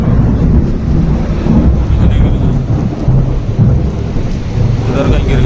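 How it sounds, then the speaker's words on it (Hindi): Rolling thunder from a lightning strike close by during rain, a loud, continuous low rumble swelling and fading over steady rainfall and wind, with no pauses and no voices. "उधर कहीं गिर गई भाई, बिजली टपक गई कहीं आसपास में ही"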